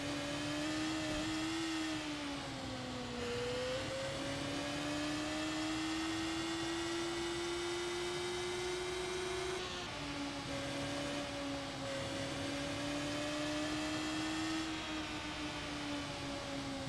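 A motorcycle riding along a road hums with a steady engine drone. The pitch rises and falls with a couple of sharp drops that sound like gear shifts, all at a moderate distance and without talk.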